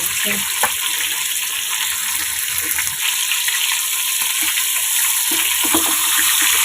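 Eggplant pieces frying in hot oil for a Bengali mustard hilsa dish, a steady close sizzle with brief stirring clatter throughout, no voices.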